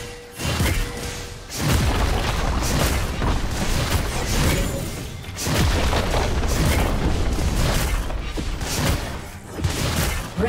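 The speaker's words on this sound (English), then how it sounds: "Red team's turret has been destroyed" Booming explosions and crashing impacts from a League of Legends match as a turret is destroyed, loud game audio with repeated heavy bursts across the clip and brief dips between them.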